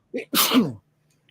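A single sharp sneeze close by, with a short inhale before the loud burst, then quiet.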